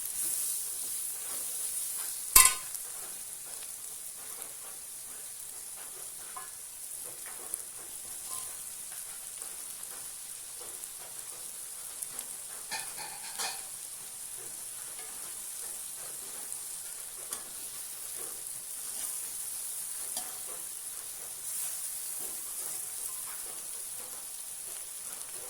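Chicken frying in a pan for a rich, home-style Kerala dish, giving a steady soft sizzle and crackle throughout, with one sharp clink near the start and no talking.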